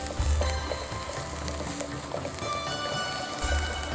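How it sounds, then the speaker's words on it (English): Steady sizzling and crackling of onions frying in a pan, with occasional stirring scrapes, continuous and fairly loud throughout. "The onions are frying."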